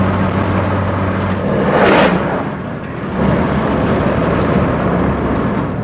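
A car loaded with hauled parts rolls down a hill with soft, bouncy suspension and weak brakes, giving a steady rumbling road and engine noise with a brief whooshing swell midway.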